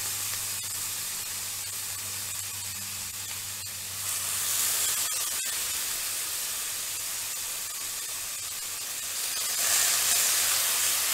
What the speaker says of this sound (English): But let's pan fry this.